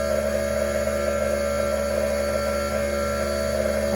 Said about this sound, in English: You can hear that compressor really kicking off in the background.